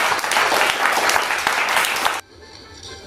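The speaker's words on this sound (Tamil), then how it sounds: "உங்கள் அனைவரின் கரகோஷத்தோடு வரவேற்கிறேன்" Loud audience applause greets a guest at a retirement felicitation ceremony at Chennai Port, sustained dense clapping that stops abruptly, leaving quiet room tone.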